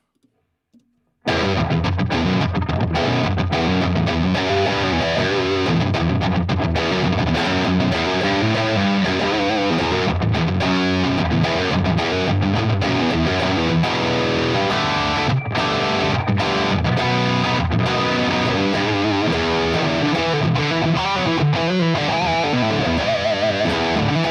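Heavily distorted electric guitar through a Mesa Rectifier-style amp preset on a Fractal unit, delay and reverb switched off, playing continuously, dense and dry without echo or ambience, loud and up close for the whole stretch.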